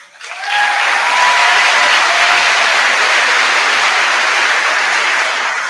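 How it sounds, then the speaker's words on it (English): Dense, sustained audience applause fills a hall at the Brackman Middle School 8th grade promotion ceremony for the valedictorian, rising quickly and holding loud and steady throughout with no talking over it. "Another round of applause for our valedictorian and salutatorian."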